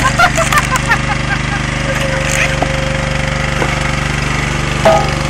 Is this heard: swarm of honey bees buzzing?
no